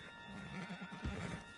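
A horse in the Red Dead Redemption 2 video game gives a short neigh, moderately loud and close, alone against a steady ambient background.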